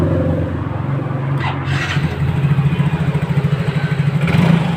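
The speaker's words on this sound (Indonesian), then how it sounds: "Coba mas, motor hidupkan mas." A Yamaha Mio J scooter engine turns over and catches, settling into a steady, rough idle with a rhythmic low putter close by.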